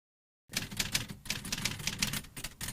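Typewriter keys clatter in quick, uneven bursts, a busy stream of mechanical strikes that starts after a brief silence and continues steadily, close and alone.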